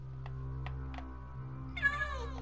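A cat meows once with a rising, wavering cry near the end, heard close and clear over a steady low hum, after a few faint clicks.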